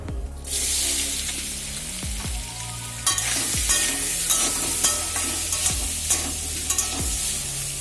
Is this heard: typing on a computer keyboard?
no